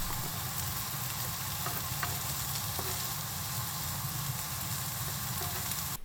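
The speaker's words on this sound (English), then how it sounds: "Heat a teaspoon of vegetable oil in a frying pan, add the onion and pinch of salt, and saute until the onion softens." Onion with a pinch of salt sizzles in a teaspoon of vegetable oil in a frying pan, a steady close crackling hiss with occasional light scrapes of stirring, no voices.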